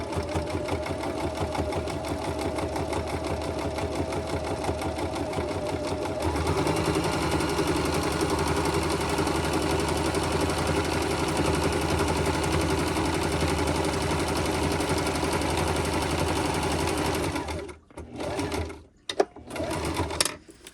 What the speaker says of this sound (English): This is our back stitch feature, so we're going to hold this, and she'll go backwards a little bit